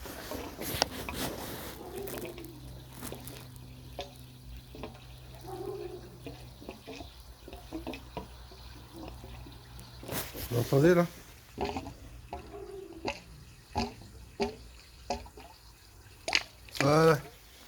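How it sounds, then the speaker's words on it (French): Water trickles and drips as it fills an underfloor heating circuit during a heating-system sludge flush, a steady low flow beneath French conversation, with sharper splashing bursts toward the end. "le circuit il est en train de se remplir là, tranquillement"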